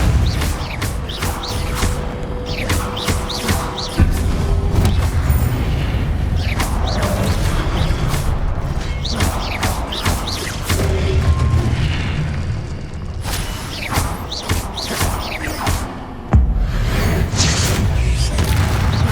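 Repeated booming blasts from the Depulso spell knocking objects away in Hogwarts Legacy on PS5, loud and dense, layered with game effects and music throughout.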